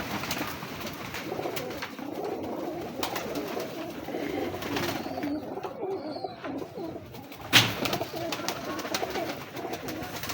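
Teddy breeder pigeons coo softly in a loft, a low repeated cooing under a quiet ambient background with a brief knock partway through.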